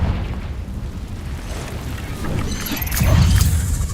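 Explosive spells cast in the Hogwarts Legacy video game, a rumbling low roar of blasts building into a louder burst near the end, with no voices.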